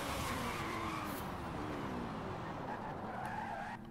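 Audi TT RS with over 1000 hp braking hard, tires skidding and squealing over steady loud engine and road noise, close and continuous throughout with no talk.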